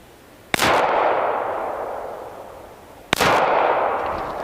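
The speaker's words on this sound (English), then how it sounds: "I shoot this pistol to the right at this distance" Two sharp, loud gunshots from a Glock 30SF .45 ACP pistol at an outdoor range, spaced about two and a half seconds apart, each followed by a long rolling echo.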